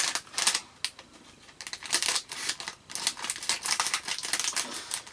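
Scissors snipping and crinkling through a stiff plastic blister pack, a rapid run of close, sharp clicking cuts and crackles with short pauses between bursts.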